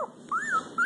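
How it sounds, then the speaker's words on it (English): A pomsky puppy attempts a howl, making short rising-and-falling whimpering yips close by, alone with no talking. "It's trying to learn how to howl."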